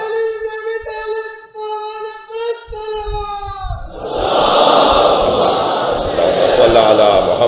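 Large religious gathering answers a lone chant with a loud, sustained collective shout, building into a dense roar of many voices after a few seconds of a single drawn-out chanting voice.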